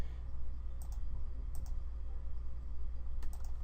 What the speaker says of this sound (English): holding control each time I'm clicking